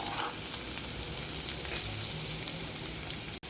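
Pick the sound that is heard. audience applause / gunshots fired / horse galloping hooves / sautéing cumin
sautéing cumin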